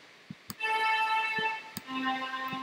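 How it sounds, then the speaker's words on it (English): An Omnisphere fast legato strings synth patch playing sustained string notes with quick attacks that change pitch, backed by soft low thumps, moderately loud with no talk. "let's go here to fast legato strings"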